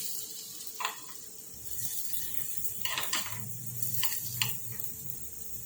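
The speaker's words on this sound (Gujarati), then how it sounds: "અને ચમચીથી એને શેકીશું પલટાઈને આ રીતે." Dal baati roasting in a pan on the stove, sizzling steadily while a spoon turns them, with several sharp scraping clinks against the pan over the low frying hiss.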